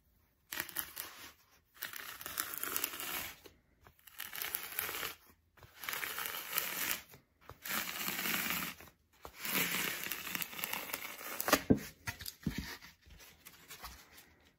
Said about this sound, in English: we're gonna cut the pool noodle lengthwise